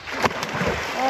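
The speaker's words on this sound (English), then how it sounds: "Oh, belly flop." Someone belly flops into clear water in a shaded gorge pool, a brief splash of broad sloshing and spray that stays close and fairly loud, with no talk.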